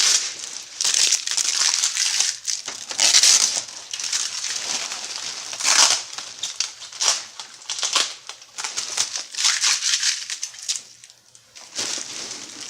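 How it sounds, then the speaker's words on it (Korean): Tape is peeled off an MX499 printer during setup: loud, close crinkling and ripping comes in repeated bursts with short pauses between. "이제 테이프를 다 떼겠습니다."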